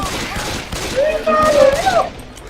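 Left 4 Dead 2 gunfire on the Dead Center versus map, rapid shots crackling through loud game noise with players shouting over them.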